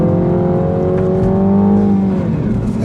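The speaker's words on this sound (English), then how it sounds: "I'm letting the car do the shifting for me." A 2015 Mini Cooper S 4-door hardtop on a race track with its transmission in automatic track mode. The engine drones loudly from inside the car, its pitch climbing steadily, then drops as it shifts up, then keeps pulling.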